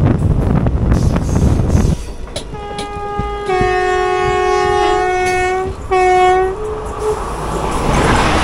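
The Palakkad–Tiruchendur Express passes with a loud, long horn blast followed by a second shorter toot, over a steady rumble of rolling wagons nearby.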